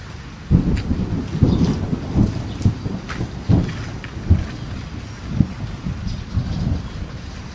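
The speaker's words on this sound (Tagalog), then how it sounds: "Kaya araw-araw po umuulan." Steady rain patters on a surface alongside repeated low rumbling bursts, no voices, a dense wet wash filling the whole stretch.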